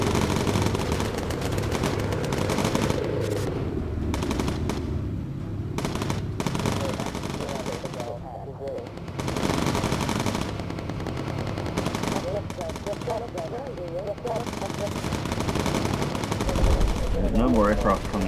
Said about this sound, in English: I do like the sound of the 50 cals in this. They sound meaty.